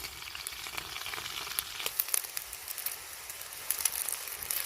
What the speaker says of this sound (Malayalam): സവാള നന്നായിട്ട് വഴറ്റിയെടുക്കണം